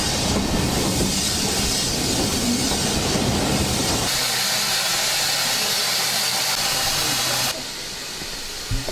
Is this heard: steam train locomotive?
yes